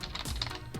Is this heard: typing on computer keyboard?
yes